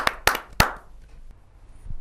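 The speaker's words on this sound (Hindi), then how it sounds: "एक जोरदार तालियों से हम उनका स्वागत करते हैं" A few sharp, close hand claps at a Hindi poetry gathering welcoming a poet, three distinct loud claps in quick succession followed by faint scattered taps and near silence.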